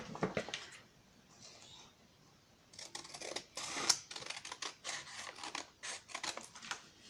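Scissors snip paper for a handmade pocket in a book, a quiet near string of crisp cuts that comes in short bursts, gathers into a rapid run of snips, then pauses.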